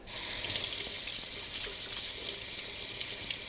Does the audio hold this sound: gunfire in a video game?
no